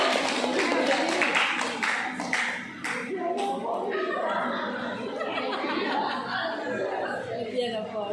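Audience clapping during a personality development and beauty class training session; a burst of claps in the first few seconds, then chatter and laughter take over as people talk.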